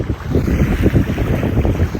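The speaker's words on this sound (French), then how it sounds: "C'est protégé, il y a un peu de vent" Light wind buffets a sailboat at anchor in a sheltered spot, a steady low rumbling gust noise on the microphone with soft water movement beneath, close and continuous.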